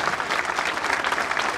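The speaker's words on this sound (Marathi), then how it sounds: "जोरदार टाळ्यांच्या कडकडाटामध्ये हा अभिषेक या ठिकाणावरती" A large gathering at the Shambhuraje coronation ceremony in Pune breaks into loud, sustained applause, thick continuous clapping with no voice over it.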